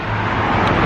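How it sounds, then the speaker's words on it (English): Cars going by on a road near a parked car, a steady, fairly loud broadband traffic rush with no clear single pass, heard without talk. "talk to y'all while the cars go by"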